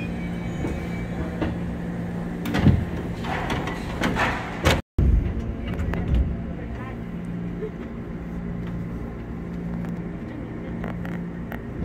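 A KRL commuter train at a station near Manggarai, with its doors sliding open amid steady rumbling carriage and platform noise, a short clunk and break partway through, and voices nearby.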